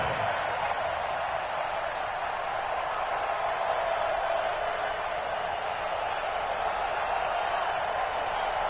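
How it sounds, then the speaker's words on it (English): A stadium crowd in the Dome in a football video game makes a steady, loud wash of roaring noise that stays even throughout. "The crowd here in the Dome making things difficult"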